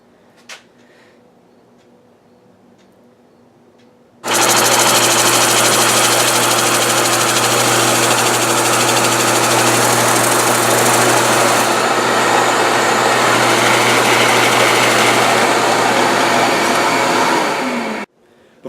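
An old drilling machine boring holes through a guitar headstock starts abruptly with a loud, steady high-pitched whine and hum, runs evenly for about fourteen seconds, then cuts off.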